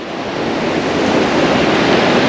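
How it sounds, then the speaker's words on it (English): Sea waves wash steadily against the remote Karpaz Peninsula coast in Cyprus, with wind blowing across the microphone in a loud, continuous roar of surf and no voices. "no noise, only the wind, the sea, and the peace and quiet"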